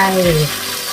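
Light soy sauce is poured into a wok of stir-fried mixed vegetables with pork balls, giving a brief loud sizzling hiss up close that settles into softer frying.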